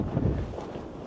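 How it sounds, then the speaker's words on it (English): Wind buffets the microphone in a low, gusty rush at St. Valery sur Somme, France, loud at first and steady throughout this brief moment. "It's a bit windy."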